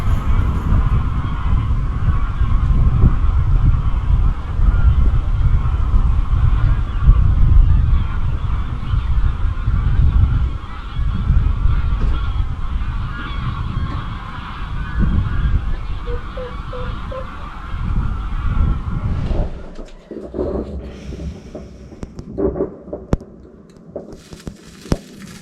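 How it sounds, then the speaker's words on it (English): Flock of geese honking at the Carlton Colville Nature Reserve, heard over a loud continuous rumble of a boat engine, with scattered pops and crackles of fireworks toward the end. "Some loads of geese over there."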